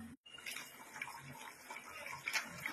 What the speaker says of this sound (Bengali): তো এবার কিন্তু জল দিয়ে দিচ্ছি, কারণ মশলাটা কষে এসছে